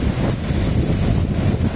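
Ocean waves at Rock Beach, Puducherry, roaring steadily and close with heavy wind buffeting the microphone, a continuous broadband wash with no voices.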